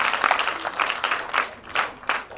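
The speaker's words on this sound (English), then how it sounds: "May we give her a hand clap?" Audience applause for a girl who has just asked a question at a Universal Children's Day celebration in Kololo, heard as a short stretch of scattered hand clapping from a small crowd, uneven and moderately loud.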